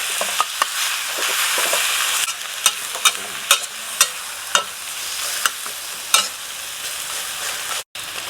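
Two beaten eggs sizzle loudly in a hot pan for stir-fried wide rice noodles with shrimp, a steady close frying hiss broken by sharp regular scrapes of a spatula stirring.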